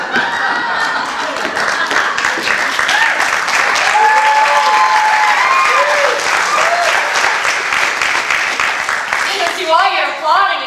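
An audience at the National Youth Arts finale claps loudly and continuously in a close, dense round of applause, with voices calling and chatting among the crowd and a voice at the end.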